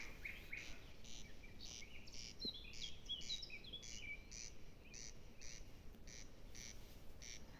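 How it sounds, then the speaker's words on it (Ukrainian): Several birds, including a pigeon, nightingale, cuckoo and duck, call and chirp over a constant background of insect trilling, faint and distant, with no voices. "Голуб, соловей, зозуля, качка і ще якісь пташки, яких я не знаю."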